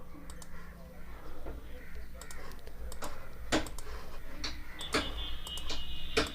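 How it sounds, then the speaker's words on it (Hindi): Mouse clicks while typing Urdu text on an on-screen keyboard in a video editing app, sounding as scattered sharp clicks at an irregular pace, close and moderately loud over a low steady background hum. "ये थोड़ी सी टाइपिंग में मुश्किल हो रही है क्योंकि मैं माउस का यूज़ कर रहा हूँ"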